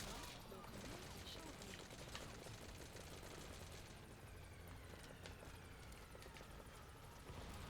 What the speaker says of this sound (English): Oh man, they shot down my helicopter.